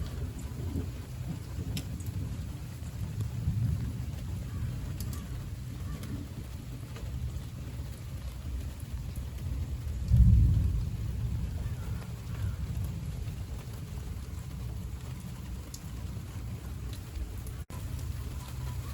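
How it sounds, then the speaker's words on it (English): A thunderstorm brings steady heavy rain hissing over everything, and a deep roll of thunder swells about halfway through. The whole storm sits at a moderate distance with no talking. "There's also lots of thunder and lightning."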